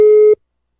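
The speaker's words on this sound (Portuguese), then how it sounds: "Eu vou ligar agora pra Rita" Telephone line tone heard while placing a call, a single loud steady electronic beep lasting about a third of a second, then silence.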